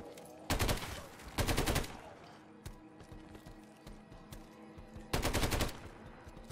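An M91 machine gun in a Call of Duty Zombies match fires in three loud, rapid bursts, with quieter clicks and game sounds between them.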